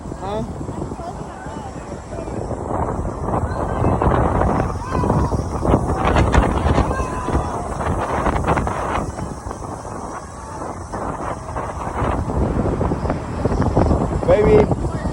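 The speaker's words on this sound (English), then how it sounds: "Whoa, it's so windy." Strong gusty wind roars against the microphone throughout an outdoor ride, a loud, rumbling, uneven rush that swells and fades, with people talking and exclaiming over it.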